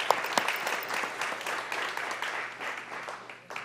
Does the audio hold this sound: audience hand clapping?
yes